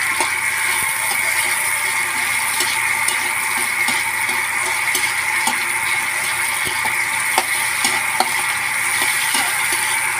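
Chopped onion and garlic frying in a pan for a Filipino adobong batong with meat, a loud, steady close sizzle with occasional crackles and utensil scrapes, no talking.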